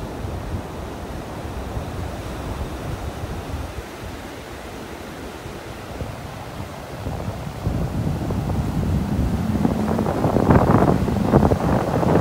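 Gulf of Mexico surf breaking on a North Naples, Florida beach, a continuous wash of waves mixed with wind rumble on the microphone that swells louder toward the end.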